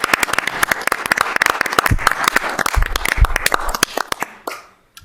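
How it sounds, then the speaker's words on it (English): A city council meeting audience applauds with dense, steady clapping for about four seconds before it fades out quickly into near silence. "I'd like to give her a round of applause."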